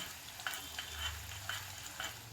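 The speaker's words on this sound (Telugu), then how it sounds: "కొద్దిగా మినపప్పు అలాగే కొద్దిగా శనగపప్పు వేసుకొని వేయించుకోవాలి" Peanuts, urad dal and chana dal frying in oil in a pan, a soft steady sizzle with occasional light clicks and taps of a spoon, faint and close.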